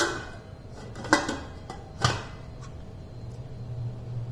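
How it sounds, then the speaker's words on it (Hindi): Metal lid set down over a pan of Bengali dum steamed fish on the stove, two soft clinks about a second apart, then quiet kitchen background. "ऊपर से इसे हम ढक रहे हैं।"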